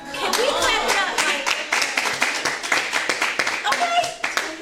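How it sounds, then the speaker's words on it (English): Clapping from a small audience at a Miami business talk show, a steady patter of many hands lasting several seconds, close and fairly loud, with some voices beneath. "Can we clap it up?"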